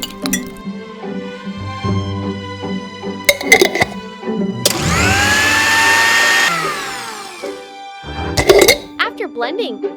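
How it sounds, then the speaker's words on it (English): A blender purees a squid sauce mixture for miniature spicy squid ramen in one loud whirring burst of about two seconds with a rising motor whine, framed by light clinks and taps of small kitchenware. "Take the pan out and pour it into the blender to puree."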